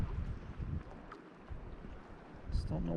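Wind gusts across the shore of Lake Haiyaha in Rocky Mountain National Park, producing a low, uneven rumble against the microphone that swells and eases throughout.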